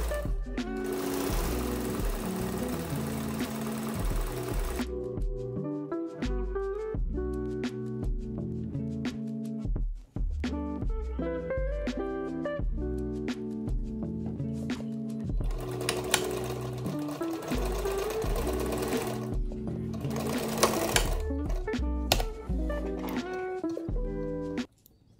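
A sewing machine top stitching seams on a corset top runs steadily and loud for the whole stretch, with its mechanical whir pausing briefly a few times before resuming.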